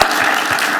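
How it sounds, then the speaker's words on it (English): Brief, steady applause from a summit audience after a sports panel, dense and even clapping close by with no voices. "Can we get a round of applause for these individuals"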